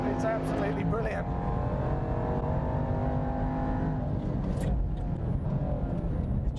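Jaguar XE SV Project 8 lapping the Portimao racetrack, its engine droning steadily and loud from inside the cabin, with a voice talking over the continuous roar.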